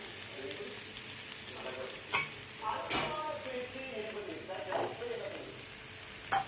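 Steady sizzling of prawns and red onion frying in a hot pan, with occasional stirring scrapes and soft clatter, close by and continuous.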